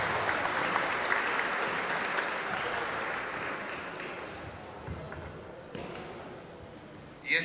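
Sustained applause from the audience at an Olympic boxing gala, Świętokrzyskie against Lubelskie, a steady dense wash of clapping that slowly fades over several seconds before a brief louder burst at the end.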